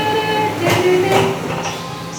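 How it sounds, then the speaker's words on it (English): A train draws near along the Great Ocean Road route outside Geelong, Victoria, with a steady rumble and tonal hum that swells slightly and holds, and faint squeal-like tones ride over a continuous broadband wash. "The train is coming."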